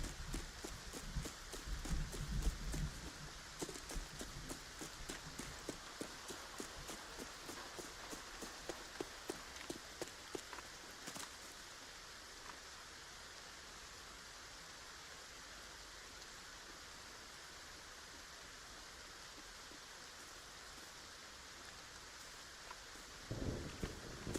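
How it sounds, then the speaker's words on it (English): Soft steady rain hissing with scattered drip ticks, a faint low rumble early on, fairly quiet and continuous with no voices. "A little bit of rain."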